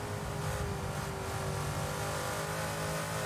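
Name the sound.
V8 race car engine and gearbox whine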